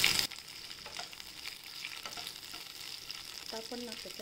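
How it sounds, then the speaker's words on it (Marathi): Okra frying in oil in a pan, a steady close sizzle with occasional stirring scrapes, following a brief clatter at the start, with no talking. "मग आपण भेंडी स्वच्छ धुवून पुसून घेतली, ही तेलात परतून घेऊया."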